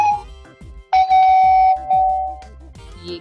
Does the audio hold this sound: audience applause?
no